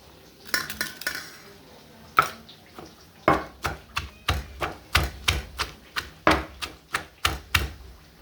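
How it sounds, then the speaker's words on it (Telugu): Spices pounded by hand in a small stone mortar for a masala fish fry: a steady run of sharp, close knocks about three per second after a few scattered opening strikes, with no talking. "మిగతాయి కూడా వేసేసుకుందాం అండి అన్నీ ఇలా దంచేసుకుందాం మొత్తం"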